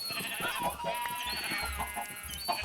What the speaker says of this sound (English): And we'll breed us up some chickens.